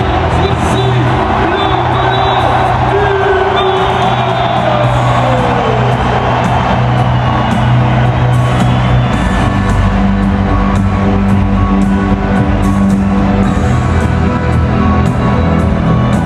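A stadium crowd at a rugby match in Bordeaux, a dense, continuous roar of cheering and whooping filling the space, with scattered shouts and a public-address voice faintly under the noise.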